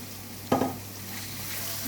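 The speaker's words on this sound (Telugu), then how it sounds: "ఫ్రై అయ్యాక సన్నగా తరుక్కున్న ఆనియన్స్ వేసుకుందాం." Thinly sliced onions fry in hot oil for a chicken biryani, giving a continuous close sizzle broken by one sharp stirring scrape near the start and another at the end, with no voices.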